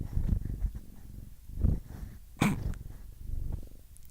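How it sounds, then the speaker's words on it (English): Cat purring close to a microphone as it climbs onto a seated person, a soft low rumbling with short bursts and a sharp snuffle midway, no talk over it. "I have a cat climbing on me."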